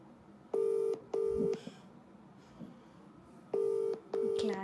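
An outgoing phone call rings through the handset as two double-pulse ringback tones separated by a pause, with quiet room noise and faint voices between the rings.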